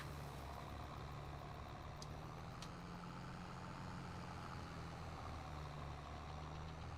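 A tractor engine in the Farming Simulator game idles with a low, steady rumble, heard fairly quietly and unbroken for several seconds, with faint higher clicks now and then and no talk.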